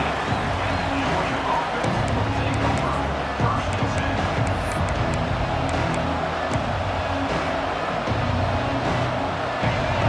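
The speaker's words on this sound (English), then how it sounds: "Listen to this crowd." A football stadium crowd keeps up a dense, loud, continuous roar with faint cheering and clapping mixed in, and it does not let up over ten seconds.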